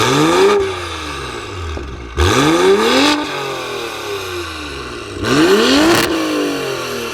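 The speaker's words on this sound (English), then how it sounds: "why are you redlining the engine" A BMW Gen 3 B58 engine fitted with a new downpipe revs hard toward redline three times, each loud sweep climbing and then dropping back to a rough idle between pulls, close to the car.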